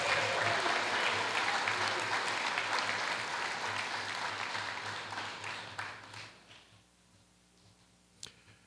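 A Hall of Fame induction ceremony crowd applauds for a trainer being called forward. Sustained clapping stays dense and fairly loud under a low steady hum, then thins out and fades to a few stray claps near the end.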